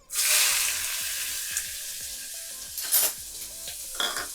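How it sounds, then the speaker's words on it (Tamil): Two medium chopped onions hit hot oil in a pan for potato masala, bursting into a loud sizzle that settles into a steady hiss, with a few stirring scrapes and clinks. "லைட்டாக வதங்கட்டும் குக்கரில் போடும்போது இந்த ஆனியன் வந்து ரொம்ப வதங்கணும்னு கிடையாது"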